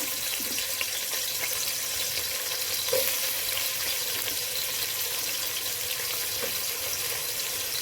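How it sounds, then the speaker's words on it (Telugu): Onions sizzle in hot oil in a pot on the stove for a Muslim wedding dalcha, a steady bright frying hiss with occasional crackles and a light stir. "పొయ్యి మీద గిన్నె పెట్టి నూనె పోసుకున్నాం కదా ముందుగా ఉల్లిపాయలు వేద్దాం"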